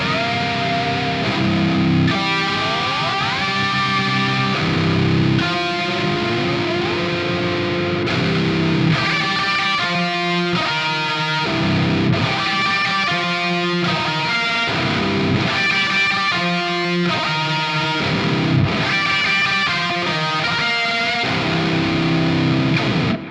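Klowra Vein 2.0 pitch shifter pedal run into wet fractal effects, producing loud, dense, experimental guitar textures with gliding pitch sweeps and stuttering, chopped rhythmic bursts throughout.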